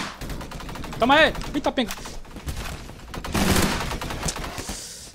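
Rapid gunfire in the Roblox game Energy Assault crackles in quick bursts throughout, loud and close, while a player exclaims over the shooting.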